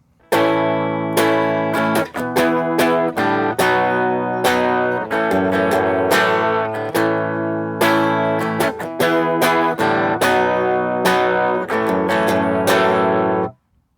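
A guitar strums the steady chord progression of a song, bright full chords ringing out one after another at an even pace, close and loud with no voices.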